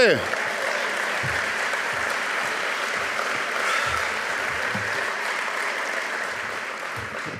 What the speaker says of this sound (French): Oui, vous avez le droit de l'applaudir.